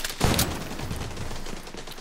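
A turret in the shooter video game Tom Clancy's The Division 2 lets off a sharp burst of fire followed by a rumbling, rattling tail of rapid gunfire, mid-distance and fairly loud, with no voices over it.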